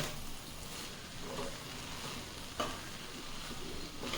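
Cabbage poriyal sizzles and fries in a pan while a spoon stirs it, a steady close crackle broken by a few soft scrapes.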